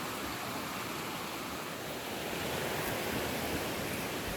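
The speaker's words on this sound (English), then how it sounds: "And there's the river." A river flows steadily along a bush track, a broad continuous rushing wash that holds an even, fairly loud level throughout with no voices over it.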